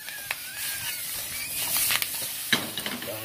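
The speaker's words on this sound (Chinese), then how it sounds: "放埋落去炒一炒香佢" Dried seafood and Yunnan ham being stir-fried in a wok with onion, a moderate sizzle broken by scraping spatula strokes and clinks at uneven intervals.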